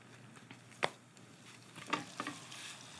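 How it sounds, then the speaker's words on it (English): Ground turkey sizzling in a pan with onions, a soft continuous hiss broken by a few sharp stirring clacks and scrapes of a utensil, close and fairly quiet, with no talking. "And then let's add our turkey in here."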